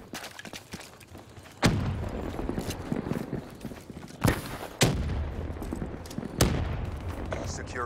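Gunfire in the video game Call of Duty Black Ops 3, with a few loud, sharp shots spaced seconds apart over a busy background of game sounds and voices.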